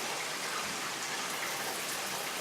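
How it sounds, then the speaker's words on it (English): Cold water runs from a shower tap in a kitchen-and-bath setting, a steady close rushing spray with no talking over it. "We're going to turn on the cold over here."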